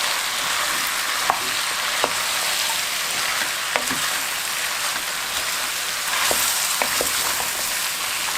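Vegetables hit a hot pan for an Albanian chicken stew and are stirred together, giving a steady, close sizzle of frying with occasional sharp clicks of a utensil against the pan and no voices.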